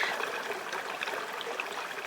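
Clear spring water trickling out of the ground among greenery in the remote Kimberley, a continuous gentle gurgle and patter of small flowing water, fairly close and steady, with no one talking.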